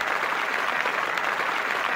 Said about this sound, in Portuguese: Vou botar as palmas nisso, então.